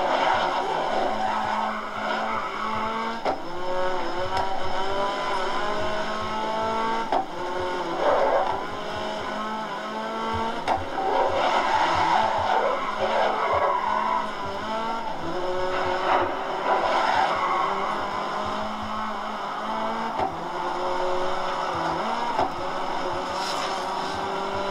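Race car skidding and spinning out in the GRID racing video game, a steady roar of engine and tire squeal with sliding tonal sweeps, loud and continuous with no talk over it.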